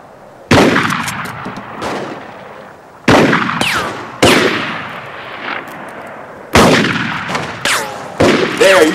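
Gunfire rings out during a western shootout: several loud, sharp shots at uneven intervals, each with a long echoing decay, some coming in quick pairs. No talk accompanies them.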